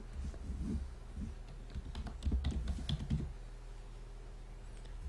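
Someone types a password with letters and numbers on a keyboard while setting up a Paytm wallet; a scattering of soft key taps sits over a steady low background hum.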